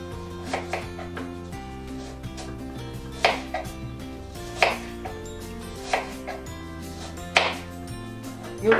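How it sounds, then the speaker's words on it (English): A knife chops leftover apple into small pieces on a board, giving a series of sharp, close cuts at an irregular rhythm over a low background hum. "And now the leftover apple we will put on top. We cut into a small one."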